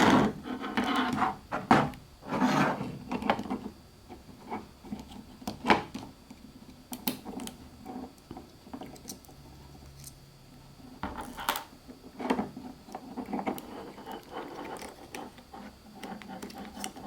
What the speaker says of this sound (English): There's just 4 screws right here, and then you can just pry it open.